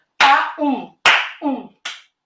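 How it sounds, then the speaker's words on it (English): Three sharp hand claps ring out in a quiet room, the first two each followed by a short voiced syllable, ending on a softer third clap. "First of all, you can clap"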